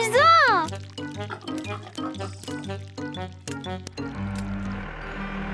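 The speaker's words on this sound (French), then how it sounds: "Les cochons se baignaient dans la boue." Cartoon piglets wallow in mud with oinking grunts and wet splashy squelches, mixed with playful music-like tones and a voice in the background.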